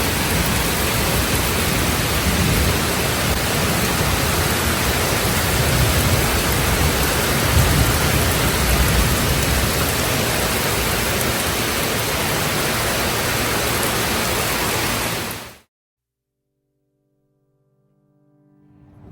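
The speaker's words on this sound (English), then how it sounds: "I love summer rain" Steady heavy rain pours continuously with a low rumbling undertone, loud and close, then cuts off abruptly into silence near the end.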